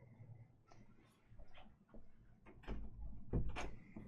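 An open door being swung shut indoors, with faint creaks and light bumps building to a soft thud and latch rattle near the end, quiet and close, with no talking.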